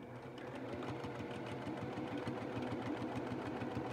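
A sewing machine back-stitching a fabric face mask whirs in a steady, fast mechanical rhythm, close and fairly quiet, running continuously.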